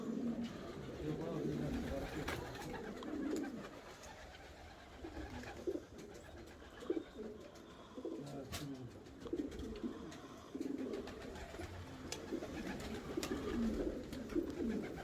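Pigeons coo repeatedly in low, throaty bursts throughout, with occasional wing flaps and rustling nearby.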